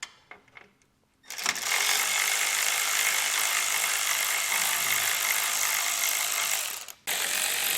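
A ratchet quickly backs out 10mm bolts on a 2024 Chevrolet Equinox, a loud, continuous, close-up clicking whir that stops briefly and starts again.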